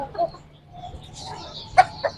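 Chickens at a bird farm give short, sharp clucks and squawks, two brief bursts near the end over a quiet background.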